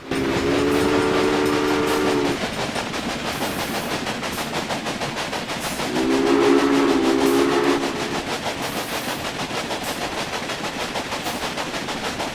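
A train in a railway video game rolls along the track with a steady rumble, and two long, loud horn blasts sound over it, one at the start and another about halfway through.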